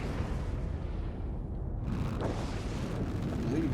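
Heavy cannon fire in a video game, a dull deep boom rumbling under steady low background noise, with no talk over it.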